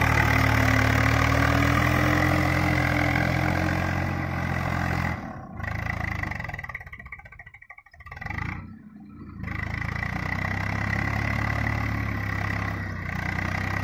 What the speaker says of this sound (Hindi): देखिए ट्रैक्टर कैसा मस्त आवाज निकाल रहा है एकदम कड़क।